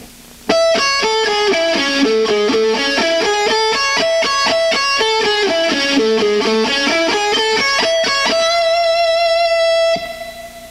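Slowed distorted electric guitar lick from a speed lesson plays a steady stream of picked notes that dips down about two octaves twice and then holds a ringing final note, loud with no talking.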